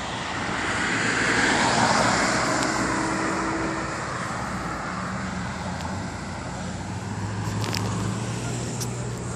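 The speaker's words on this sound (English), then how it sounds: "we got quite a bit of traffic here" Road traffic on Route 40 in Mays Landing, Hamilton Township, makes a steady broad roar of passing vehicles, swelling and easing slightly, moderately loud and continuous with no talk.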